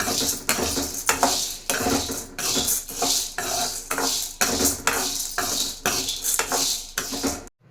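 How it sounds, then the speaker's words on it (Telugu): A metal spatula scrapes and clatters against a pan again and again as spices dry-roast for homemade sambar powder, a steady, close stirring rhythm with no talking. "మనము కంటిన్యూయస్గా వేయించుతూనే ఉండాలండి"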